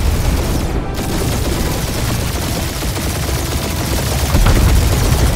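Rapid gunfire in the Guardians of the Galaxy video game, a dense continuous barrage of shots with booming low rumble, loud and sustained throughout with no pause.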